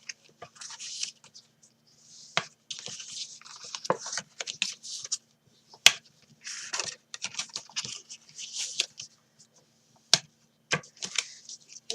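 Scored card being folded and creased by hand while making a matchbox-style gift box: close, crisp paper crackles and soft rustles, with a few sharper snaps and short pauses between folds.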